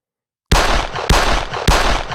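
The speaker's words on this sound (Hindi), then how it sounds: "नाथूराम गोडसे ने गांधी के निकट जाकर उन पर 3 गोलियां दाग दीं।" Three loud gunshots follow a moment of silence, fired in quick succession about half a second apart, each a sharp blast with a rumbling tail.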